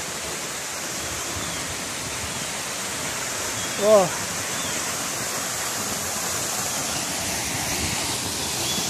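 Water flowing at David's spring in Ein Gedi, Israel, a steady close rushing hiss like a small waterfall, with a brief exclamation from a voice partway through.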